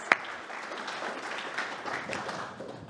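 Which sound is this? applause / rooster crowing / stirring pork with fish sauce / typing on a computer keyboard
applause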